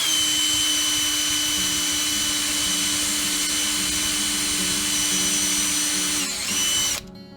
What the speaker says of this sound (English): It's important when drilling this hole that you keep the drill as upright and as vertical as possible